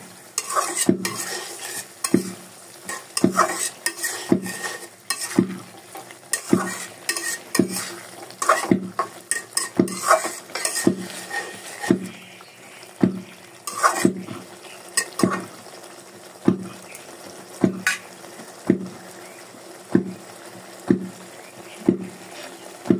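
Gucchi fish curry with potatoes sautéing in a pan, with a quiet sizzle under a steady, rhythmic clack and scrape of a spatula stirring against the metal, repeated roughly every second, close by and without talk.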